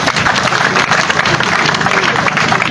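Dense crowd applause fills the space at a military barracks dedication ceremony, a steady loud wash of many hands clapping without pause.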